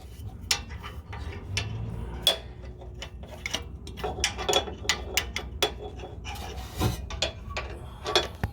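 Sharp metallic ticks and clicks from a wrench loosening a 12 mm bolt near the oxygen sensor on a Toyota Tacoma, irregular and close, with scattered clanks of tools.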